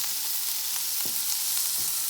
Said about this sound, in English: Stirring it all together.